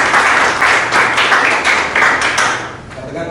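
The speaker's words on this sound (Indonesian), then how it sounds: "Oke, tepuk tangan." Applause from a class or teacher-training audience after a short presentation, dense steady clapping that fills the clip and tapers slightly near the end.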